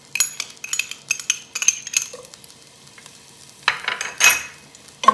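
Chopped garlic sizzles in oil that has been infused for a roasted bell pepper soup, with bursts of metal utensil clinks and scrapes against the pan, close and intermittent, with no speech.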